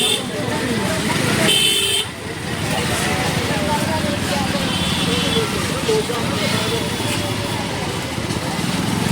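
Busy traffic noise with running engines and a loud car horn blast early on, voices and street bustle continuing underneath.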